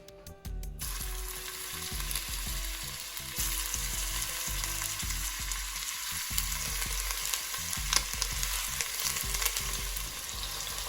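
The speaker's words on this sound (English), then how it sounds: "So we are going to start searing our beef" Steady, loud sizzling of beef searing in a hot Dutch oven, a continuous crackle and hiss with occasional sharper pops.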